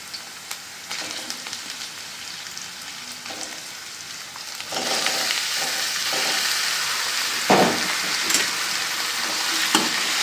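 Lamb blood frying with fried onions in a pan gives a steady, loud sizzle that swells about halfway through, with occasional stirring scrapes and pops close by.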